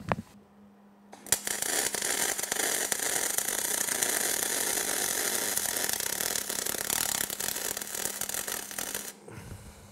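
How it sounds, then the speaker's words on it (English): Spool gun welding on a Ski-doo REV 700 snowmobile during a running board install, a steady loud crackling buzz that holds for about eight seconds after a brief click and pause, then cuts off. "Gotta weld this up."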